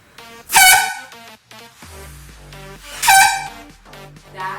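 Two loud, piercing blasts from a homemade air horn built from plastic bottles and PVC pipe with rubber-band seals, each lasting about half a second and separated by a pause, with quieter rattling and handling noise between them.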